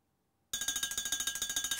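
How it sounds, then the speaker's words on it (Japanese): An alarm clock goes off in the video game Love Letter from Trash Can (moon), a sudden loud electronic ringing that bursts in after half a second of silence and pulses rapidly and evenly to the end. "目覚ましのかけ方！"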